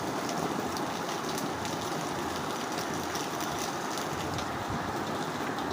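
Pasta fries with Maggi masala in a pan, giving off a dense, steady sizzling hiss that stays even and close with no voices.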